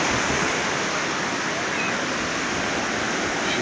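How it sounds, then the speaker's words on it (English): Ocean surf of about five-foot waves after storms roars in a steady, full, continuous wash at a beach on the northern end of an island, loud and unbroken throughout. "Looks like 5-foot waves,"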